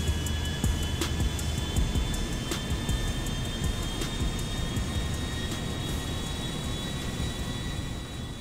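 An airplane taking off in GTA 5 produces a continuous loud engine roar with a steady whine and rumble that holds throughout, without voices.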